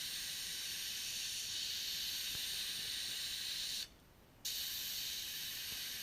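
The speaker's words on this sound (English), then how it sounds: "In this particular case, I'm using 100 psi blasting pressure" Continuous hiss of a sandblaster at 100 psi etching a Pelican case, steady and close, broken by a brief pause before the spray resumes.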